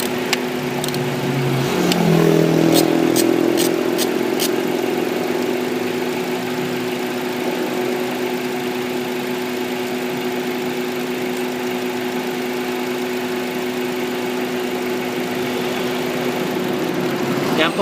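Honda Accord engine idling with an ignition coil lifted, misfiring so it runs rough, a steady close engine hum with a faint irregular shake; a few clicks and a brief voice early on.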